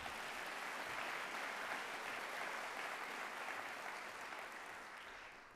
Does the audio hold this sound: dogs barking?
no